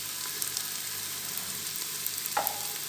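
Red chili powder mixed into beef trotters frying in a pan. A steady hiss of sizzling carries through, with a couple of faint utensil scrapes and no talking.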